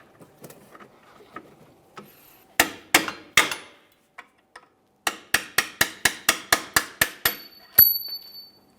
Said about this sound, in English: Use a hammer and punch if necessary.